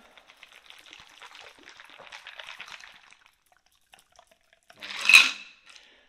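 A Jack Rose cocktail is double strained into a coupe glass. A faint trickle of liquid and light clinks are followed by one louder metallic clatter of the strainer and glass, and no one speaks.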